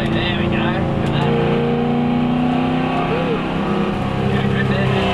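A V8 Supercar engine pulls hard under power on a racetrack, a steady, loud, harmonic drone sustained throughout while an instructor talks over it.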